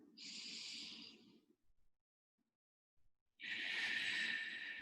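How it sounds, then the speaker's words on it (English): Two long, breathy exhalations through the mouth, close and airy, the first fading out, a few seconds of near silence, then the second starting stronger; no talking. "Breathing out through the mouth."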